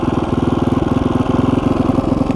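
A motorcycle engine idling slightly unevenly after a valve job, with a loud, close, steady rapid putter and a regular pulsing beat throughout.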